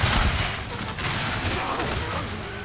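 Confederate troops fire massed musket volleys in a huge Total War: Shogun 2 American Civil War battle, a dense, continuous crackle of overlapping shots with distant booming underneath.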